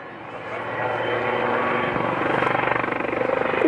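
A military helicopter's rotor thumps and engine roar build to a loud, rhythmic chopping as it passes close overhead at an air show in Swansea.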